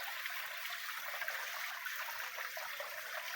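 A stream of water flows beside bamboo trees in a steady, soft, continuous rush and trickle with no breaks, heard from nearby with no talking.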